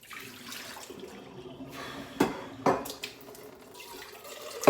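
Tap water runs into a sink while dishes are washed, a steady trickle broken by a few sharp clinks and splashes of dishware, close and moderate in level.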